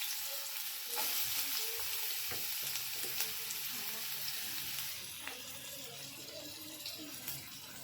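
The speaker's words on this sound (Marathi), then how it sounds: "तेल तापलेलं आहे कांदा टाकला आहे" Onion frying in hot oil for a dry chicken dish, a dense steady hiss and crackle close up, with occasional stirring scrapes and taps and no talk.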